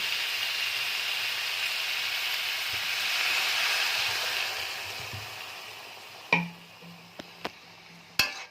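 Water poured into a hot pan of chilli-spiced hilsa fish-head mixture, with a steady broad sizzle and hiss that swells and fades, ending in a few sharp clinks and taps of utensils against the pan.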